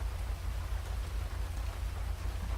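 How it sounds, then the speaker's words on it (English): Steady, dense rain pattering continuously in the video game GTA 5, with a low rumbling undertone and no voices. "since it's raining"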